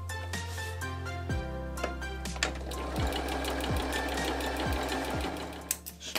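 Sewing machine stitching a patchwork quilt block, running steadily at close range with a continuous mechanical hum and several brief pauses or thumps while the fabric is adjusted.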